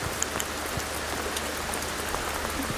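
Raindrops fall steadily during a rainstorm, a dense even hiss of rain on surfaces with scattered individual drop taps, moderately loud and uninterrupted, with no voices.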